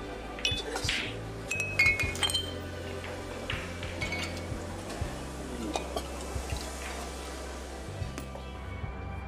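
Glasses clink together in a toast at a group gathering in a TV drama, several sharp chimes scattered over a busy background of music and room noise, with no clear talking.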